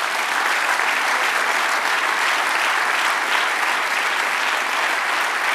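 A church congregation applauds during a Spanish-language sermon, producing steady, dense clapping at an even loudness throughout, with no voice over it.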